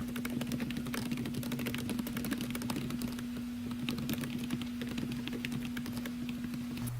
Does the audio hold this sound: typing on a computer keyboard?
yes